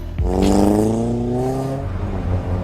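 A car driving off from a gas station, its engine revving and rising in pitch as it pulls away, loud and steady with a droning hum throughout, no talk.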